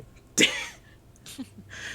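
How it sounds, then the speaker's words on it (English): One sharp, sudden sneeze bursts out close by, followed by quiet murmuring and faint breathy sounds. "I'm going to sneeze now"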